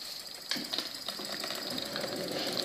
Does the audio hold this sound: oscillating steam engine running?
yes